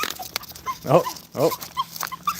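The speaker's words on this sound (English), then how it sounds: "Oh, that's a big boy. That's a big doggy." A big dog whines and yips in a few short, pitched cries close by, while a person briefly exclaims.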